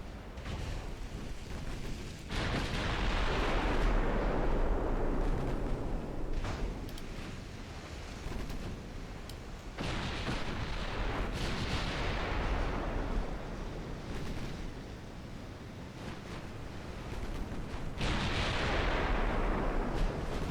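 Naval gunfire from battleships in a video game, heavy booming salvos that roll out over a sustained low rumble, with three big blasts spaced through the stretch and no talking.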